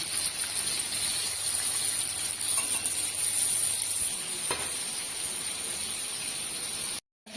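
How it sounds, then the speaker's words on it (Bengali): Fish frying in oil in a village kitchen gives a steady, dense sizzle and hiss that runs unbroken for most of the stretch, with a faint low hum in the first half and a brief dropout near the end. "মাছটা ভাজা হয়েছে, কত সুন্দর ভাজা হয়েছে"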